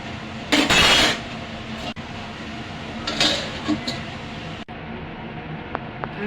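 Aloo dum, a potato curry, stirred in a pot with a few scraping, knocking strokes of a spoon against the metal, close and moderately loud, with brief pauses between them.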